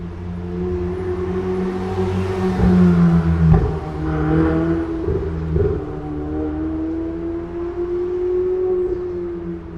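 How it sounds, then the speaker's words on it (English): A car passes on a New York City street, its engine hum rising to a louder swell in the middle with a tonal whine, then fading off as it moves away. "here's the video of your car going by"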